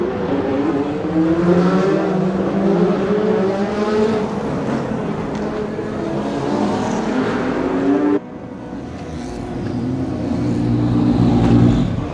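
Ford GT race cars roar past during the Le Mans race, loud sustained engine noise rising and falling as cars pass, with a sharp cut partway through to another stretch of engine sound.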